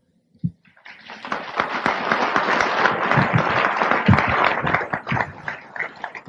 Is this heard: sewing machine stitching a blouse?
no